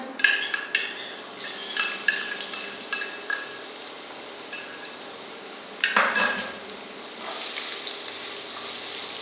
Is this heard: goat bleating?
no